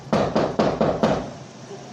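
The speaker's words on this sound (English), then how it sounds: "Knocking on the bunker door." Knocking on a heavy bunker door: five loud, evenly spaced knocks in quick succession, close and booming, then silence.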